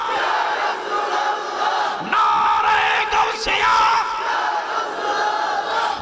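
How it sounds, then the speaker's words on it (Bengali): A large crowd at a religious gathering chants Nara-e-Takbir, Allahu Akbar. Loud massed voices shout together in rising, call-and-response bursts that fill the space. "আরেকটা আওয়াজ দিতে হবে সুন্দর করে নারায়ে তাকবীর আল্লাহু আকবার"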